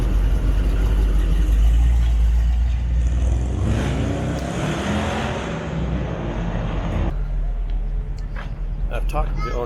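A Chevy car engine revs hard and loud nearby at an outdoor summer car gathering in downtown Jackson, the roar easing after a few seconds into a lower rumble while people talk.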